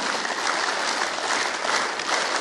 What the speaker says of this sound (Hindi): ताली की गूंज पर लगाए रखें।